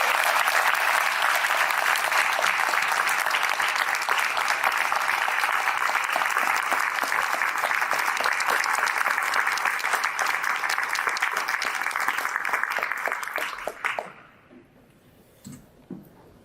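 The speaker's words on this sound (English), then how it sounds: "give me a huge round of applause" A conference audience at a leadership summit breaks into loud, sustained applause welcoming a speaker, which holds steady for about fourteen seconds and then cuts off abruptly, leaving a few faint claps and quiet room noise.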